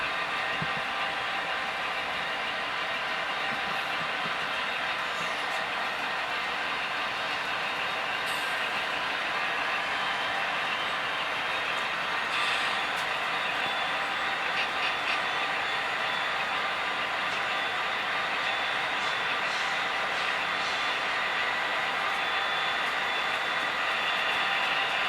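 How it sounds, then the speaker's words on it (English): A CP tanker train passes by with a steady, loud rumble and rolling wheel noise that continues unbroken throughout, with no talking. "So while that train is going by,"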